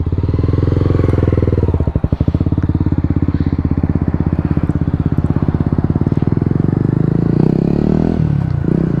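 A Honda CBR 250 motorcycle runs close by through the whole stretch, its engine note loud and steady with a rapid rhythmic pulse, revving and shifting pitch as it is ridden around.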